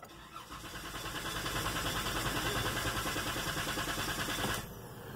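A Dodge with push-button start sits with its starter cranking continuously in flood clear mode, a steady, rapid whirring churn that lasts about four and a half seconds and then abruptly stops, heard fairly faint with no talk.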